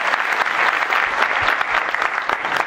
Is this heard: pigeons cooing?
no